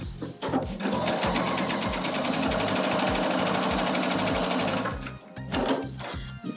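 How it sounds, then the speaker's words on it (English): A sewing machine stitches along both sides of a quilt line in one continuous fast run of several seconds, bracketed by brief starts and stops at either end. "Now we'll take it to the machine. We gotta sew on either side of the line."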